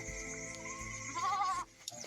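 A sheep on a farm field beside a hill village gives one close, quavering bleat that wavers in pitch over a quiet background.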